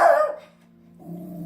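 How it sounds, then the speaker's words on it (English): A single short dog bark, fairly close, followed by a quieter drawn-out vocal note after a brief pause. "Sorry if you hear a dog barking."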